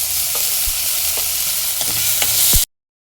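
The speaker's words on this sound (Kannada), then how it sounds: "ಹಾಗೆ ಅದ್ರ ಜೊತೆ ಟೊಮ್ಯಾಟೊನ ಹಾಕಿ ಟೊಮ್ಯಾಟೊ ಅಲ್ಲಿರೋ ನೀರೆಲ್ಲ ಹೋಗೋ ತನಕ ಚೆನ್ನಾಗಿ ಹುರ್ಕೊಳ್ಳೋಣ." Tomatoes fry in hot oil with onion and ginger-garlic paste, a steady close sizzle broken by several scraping stirs of a spoon across the pan, ending abruptly in silence.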